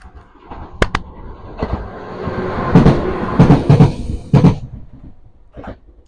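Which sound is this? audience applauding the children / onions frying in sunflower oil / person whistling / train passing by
train passing by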